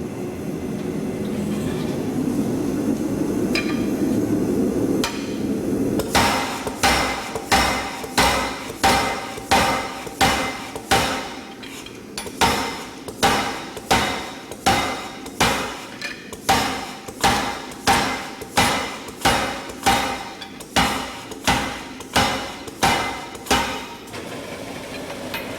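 A steady mechanical hum runs first, then a power hammer with a flattener strikes hot metal for a garden gate in a fast, regular series of loud, sharp blows.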